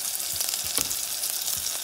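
Sofrito ingredients frying in a pan over medium heat give off a steady, close sizzle with a few brief stirring scrapes. No one speaks.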